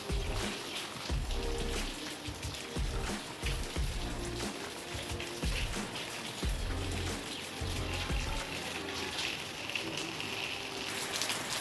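Dense, steady monsoon rain pours down continuously, a broad wash of hiss with scattered heavier drips and splashes close by, water running off a roof.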